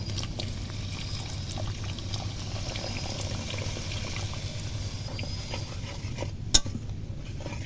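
Water poured into a simmering koi fish curry in a pan, a steady low bubbling wash with faint utensil clinks and one sharp clink near the end, no talk.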